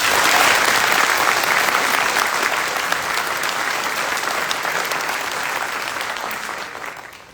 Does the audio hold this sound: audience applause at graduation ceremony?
yes